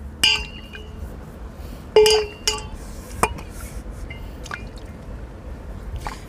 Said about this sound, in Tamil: இப்போ நம்ம இந்த கல்லை கழுவுறோம்ல,